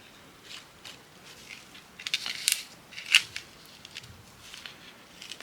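Scissors snip little bits off craft material, a handful of quick, crisp close-up cuts in an irregular rhythm, soft and alone in a quiet room.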